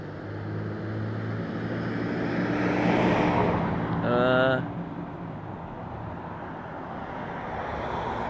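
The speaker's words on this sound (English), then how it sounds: "Oh, that is the bus." A city bus approaches along a quiet street, its engine rumble swelling over several seconds with a brief tonal whine at its loudest point, then easing back into steady outdoor noise.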